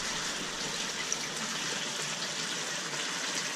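Water pours steadily from a pipe into a newly dug pond, a continuous broad rushing flow that stays even and fairly close throughout, with no voices.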